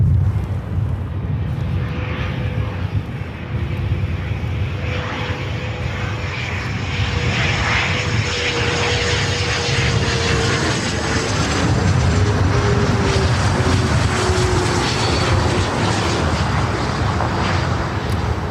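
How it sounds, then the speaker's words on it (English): A FlexJet Embraer Phenom 300E business jet arriving from Boeing Field makes a steady, loud engine roar with a faint whining tone, holding strong for the whole stretch as it passes near. "This is FlexJet 399 coming in from Boeing Field on the Phenom 300E"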